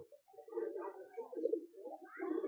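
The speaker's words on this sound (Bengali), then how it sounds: "একটা নর পায়রা দেখাচ্ছি" A male pigeon coos nearby in a soft, throaty, rolling call that repeats in short phrases, with nothing else audible.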